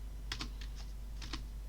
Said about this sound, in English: you can press end on your keyboard and then simply just press enter